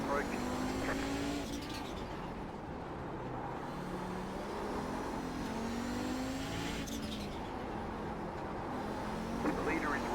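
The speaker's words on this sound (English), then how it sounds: "A group of faster cars approaching." Race cars at Mid-Ohio during a vintage IMSA race drone steadily from an onboard view, engines rising and falling through gear shifts as faster cars close in, with a voice talking over the noise.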